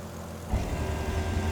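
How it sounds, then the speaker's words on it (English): Yak-18T aircraft engine in Microsoft Flight Simulator 2020 swells as power is added on a low approach, a close droning rumble rising sharply after a brief quieter moment. "so I'll give some power and bring us up."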